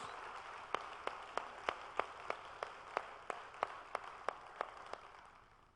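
Church congregation applauding, with evenly spaced rhythmic claps over a softer wash of clapping that thins out near the end.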